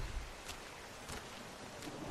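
Rain falling in the video game The Walking Dead, a steady faint hiss of rainfall with soft patters throughout, heard alone.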